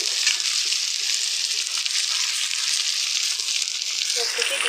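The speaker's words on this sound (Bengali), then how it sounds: "আর এখন আমি দিয়ে দেবো পেঁয়াজ কুচি" Chopped onion hits oil already fried with five-spice and garlic, making a steady, dense sizzle with fine crackling throughout, close and even in loudness.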